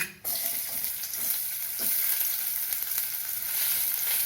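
Finely chopped onions sauté in hot oil for a snake gourd dal, with a loud, continuous, close sizzle that starts abruptly and holds steady, with occasional stirring taps and no speech.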